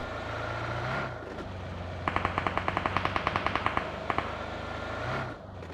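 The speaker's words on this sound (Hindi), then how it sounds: "बंदे फायरिंग कर रहे थे तुम्हारे भाई पे" Rapid bursts of automatic gunfire from the BGMI battle royale game ring out in a steady rhythmic string, then a couple of final shots, over a constant hum of in-game engine or ambient noise.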